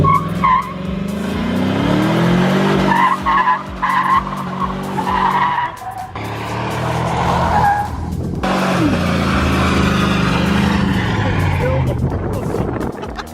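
Ford Focus RS with its muffler cut off, the engine loud and raspy as it revs and drops back repeatedly, close by, with people talking over it in places.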